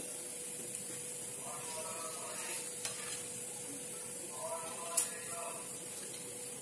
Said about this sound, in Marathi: तेल व्यवस्थित गरम झालं की याच्यात आपण जिरे टाकून घेऊया